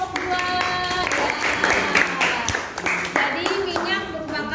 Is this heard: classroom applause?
yes